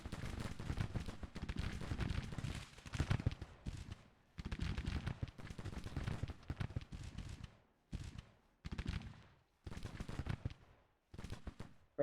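Field guns fire in a Civil War battle game: a long series of booming, crackling artillery volleys in irregular bursts separated by short pauses, moderately loud, with no talk.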